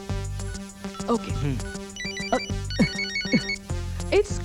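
A phone ringtone in a Hindi Bollywood movie plays a repeating electronic melody, clear and fairly close, while voices talk over it.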